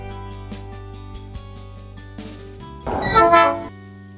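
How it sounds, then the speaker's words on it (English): A heritage train idles at a station with a steady low engine drone and tonal hum, then a brief loud horn-like blast sounds near the end before fading. "By the time we'd arrived at the station, the train had only just got back."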